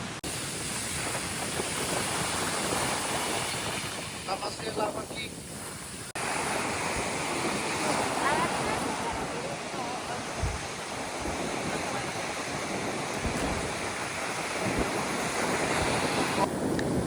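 Ocean surf roars continuously at Kailua Beach on Oahu, loud and near, with wind buffeting the microphone and a break near the middle.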